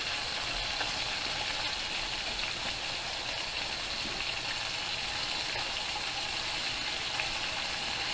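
Beef for a garlic beef noodle bowl sizzles and fries in a hot pan as it is flipped, giving a steady, close, loud hiss that runs unbroken with no talking.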